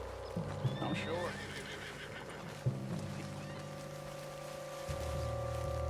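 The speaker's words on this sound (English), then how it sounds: "What's wrong with this horse?" A horse whinnies amid clopping hooves and a steady electronic hum in Red Dead Redemption 2, with a low drone and occasional thumps in the background.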